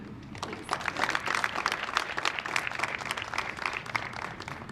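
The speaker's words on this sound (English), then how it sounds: "join me please in giving a round of applause for the parents" Applause for parents at a high school football banquet, a steady round of clapping from a seated crowd filling the room at moderate volume with no talk over it.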